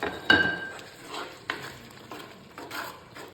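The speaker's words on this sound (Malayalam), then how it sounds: "ഈ മസാലയും ഈ തക്കാളിയും കൂടെ നല്ലപോലെ മിക്സ് ചെയ്ത് നമുക്ക് യോജിപ്പിച്ചെടുക്കാം" Masala and tomato are stirred in a pan as they fry, with a sharp metal scrape at the start and a few more spoon strokes over a soft sizzle.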